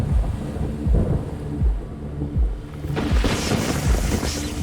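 Thunder from lightning in a storm: repeated deep rumbles and booms rolling over steady rain, with the rain hiss growing heavier and brighter partway through.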